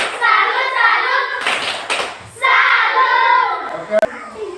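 A classroom group claps in a rhythmic chanted salute for group 2, bursts of hand claps mixed with children's voices chanting together, fairly close and lively.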